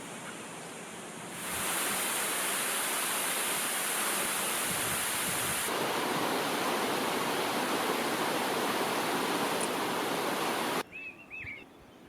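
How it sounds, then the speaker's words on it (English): Waterfall in the Black Mountain Reserve, Bhutan, a dense steady roar of falling water, loud and continuous, ending abruptly with faint bird calls behind. "We were soon into the Black Mountain Reserve, with its spectacular waterfalls."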